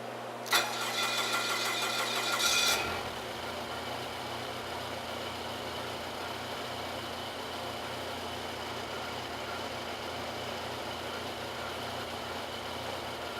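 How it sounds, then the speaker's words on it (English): A diesel-style engine restarts in an engine test cell: a loud, brief cranking burst lasts about two seconds, then settles into a steady, even idle hum that continues without talk. "Right now, as the engine is getting restarted, we're waiting for the rail pressure to start to drop"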